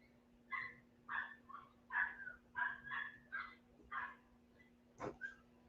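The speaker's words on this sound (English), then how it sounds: "Wow, the puppies are barking." Puppies bark in a quick series of about eight yips and small barks in a quiet room, with a final sharper double bark, fairly faint and unaccompanied by talk.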